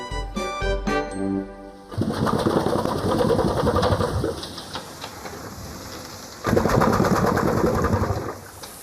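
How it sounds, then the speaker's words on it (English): After a brief tonal opening, an old steam engine runs with a steady rhythmic chugging and clatter, growing louder again near the end. "This remarkable contraption is an old steam engine."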